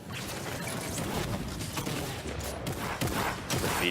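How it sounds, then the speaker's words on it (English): Combat shotgun blasts in a Fortnite World Cup solo match, heavy booming shots packed close together amid dense, loud game noise with no pauses. "Combat shotty shots are so big when accurate."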